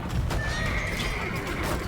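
A horse in the video game Age of Empires 2 lets out a clear, drawn-out whinny over soft hoof clip-clops, heard up close and alone.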